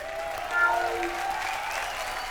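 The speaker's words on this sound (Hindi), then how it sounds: "हमारी गोलमाल की टीम के लिए जोरदार तालियां" A studio audience at a comedy show applauds for the Golmaal team, a continuous wash of clapping and crowd noise with faint tonal music mixed underneath.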